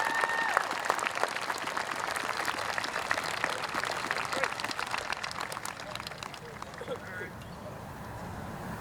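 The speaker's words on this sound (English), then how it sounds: "Ladies and gentlemen, please join me in a round of applause for Caden McCoy." A graduation audience claps at a high school ceremony, a dense steady wash of applause from a large crowd in a hall, fading slightly toward the end.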